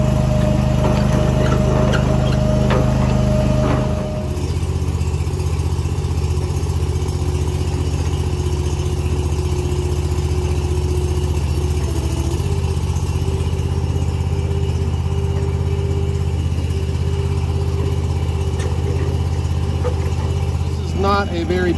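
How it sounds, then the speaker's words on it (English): Japa 365 Pro firewood processor engine warming up at low RPM, a loud, steady, close idling drone that continues throughout with a slight shift in tone near the start. "I always let the engine warm up and get the hydraulic fluid moving on low RPM"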